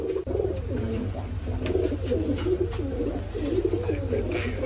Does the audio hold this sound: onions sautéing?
no